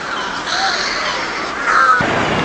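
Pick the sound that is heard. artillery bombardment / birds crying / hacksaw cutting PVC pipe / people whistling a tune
birds crying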